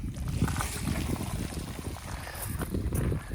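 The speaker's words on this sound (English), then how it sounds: "And then I pull the gray tank and let it flush the black water out of the hose." Water runs steadily through a sewer hose from an RV gray tank, a continuous low rushing and gurgling with faint trickling, no voices.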